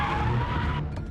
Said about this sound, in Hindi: हाई स्पीड दौड़ती गाड़ियां अचानक एक गाड़ी के ब्रेक लगाने के बाद रुक गई।